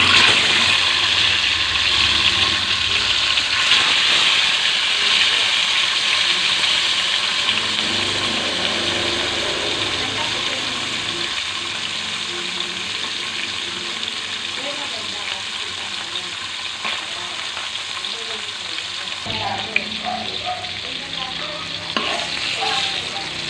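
Bikaw fish fries in hot oil in a well-heated pan, a loud, steady hiss and crackle that holds through the whole stretch and eases slightly toward the end.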